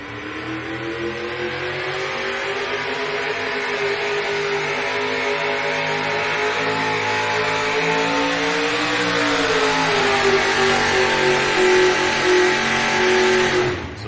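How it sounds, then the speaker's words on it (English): A 1965 Ford Pro Modified pulling truck, naturally aspirated, makes its pull run at a Madera, California truck and tractor pulling event. The engine roars loud and close in one sustained, rising howl that bogs slightly midway, then climbs again before cutting off. "Dave Vienendahl with the 65 Ford he calls the Intimidator. Makes his run here."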